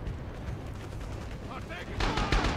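Artillery shells and gunfire booming in the video game Artillery Simulator 2014, a dense rumble of distant blasts that swells louder near the end.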